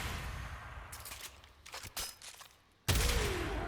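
Kuva Hek shotgun shots in the game Warframe, a handful of sharp blasts spaced irregularly, with the last one loudest and followed by a ringing tail over a steady low game background.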